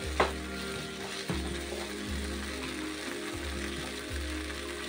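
Ground masala for a pomfret masala fry sizzles quietly in a pan, with soft, regular stirring scrapes and thumps about once a second.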